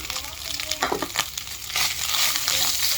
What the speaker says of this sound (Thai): ผัดพอพริกแกงหอมแล้วนะครับ